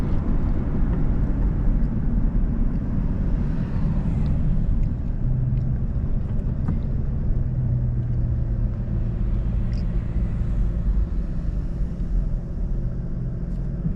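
Steady low rumble of a 2003 Ford SVT Mustang Cobra engine while driving, a continuous droning cabin hum held at an even level throughout with no talk.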